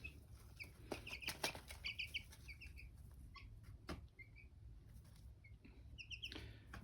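Meat chickens of an American breed cluck and call softly in a coop, with scattered short clucks, a few louder bursts and some wing flapping, fairly faint overall with no voices.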